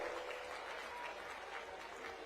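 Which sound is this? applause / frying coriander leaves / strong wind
applause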